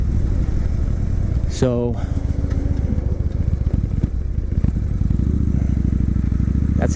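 A Victory Hammer motorcycle engine rumbles low and steady throughout the ride, with a brief rising rev near the start, while someone talks over it.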